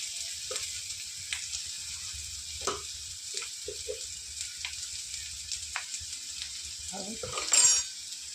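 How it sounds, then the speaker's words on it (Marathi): A light, thin sizzle of cumin, onion and garlic tempering in oil for an eggplant bharit, with scattered clinks and stirring knocks of a spoon in the pan and a louder scrape near the end. "फोडणीसाठी जिरे, कांदा, लसूण"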